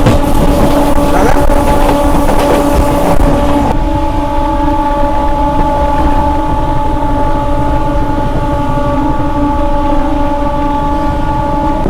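A Sealdah–Bangaon local train pulls into Madhyamgram station with loud, sustained rumbling and a steady tonal whine from the coaches, heard close up from onboard without talk.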